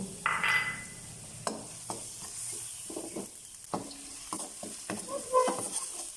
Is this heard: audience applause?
no